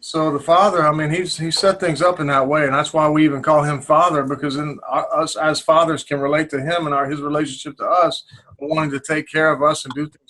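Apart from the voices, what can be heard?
No distinct noise like a dog, phone or traffic.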